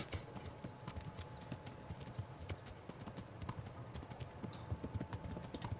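Horse hooves clip-clop in a steady, quick rhythm in a medieval video game, crisp and fairly close throughout, with faint ambient game sound beneath.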